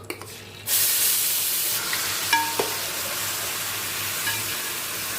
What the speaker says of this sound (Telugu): దీనిలో పచ్చి స్మెల్ పోయేంత వరకు కూడా బాగా వేయించుకోవాలి